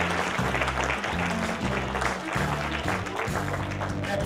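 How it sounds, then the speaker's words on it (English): Steady, dense applause from a crowd at a Christian magicians' fellowship show, continuous clapping throughout with no pauses. "give them a big round of applause."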